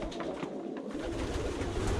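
A young homing pigeon hen with light bronze wing bars coos softly and steadily through a constant hiss of background noise.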